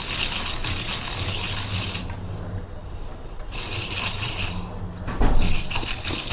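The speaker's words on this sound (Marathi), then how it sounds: "पूर्ण सगळ्या साईडने आपल्याला हा नारळ अशा प्रकारे खवून घ्यायचा आहे।" Fresh coconut turned by hand against a scraper gives a continuous rough grating and rasping, loud and close, pausing once briefly mid-way before resuming.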